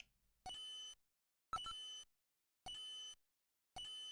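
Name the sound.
ticking bomb timer in the video game Snatcher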